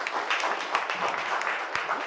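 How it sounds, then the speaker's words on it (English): An audience at a community panel event on reducing violence in Atlanta claps in steady, dense applause, fairly close and even in loudness throughout. "we'll give them a round of applause"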